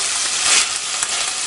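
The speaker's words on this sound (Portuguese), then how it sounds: "A cebolinha fritando junto com a linguiça." Sausage and green onion frying together in a pan, giving a dense, continuous close sizzle with faint stirring scrapes.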